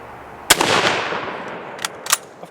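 A single loud, sharp report from a Mosin Nagant M91/30 rifle fired at a silhouette target 100 yards away, with a ringing decay afterward and a few fainter clicks and knocks following.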